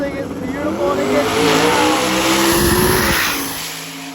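A Pontiac drag car accelerating down the strip at Drag Week 2024, its engine note rising loud and close as it pulls away, then fading near the end, with voices audible underneath.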